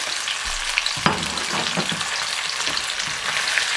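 Seafood hot-fried in a pan sizzles steadily and loudly close by, with a few stirring clatters and bursts over the continuous frying hiss and no talking.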